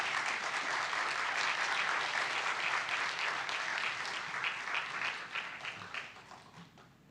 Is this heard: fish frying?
no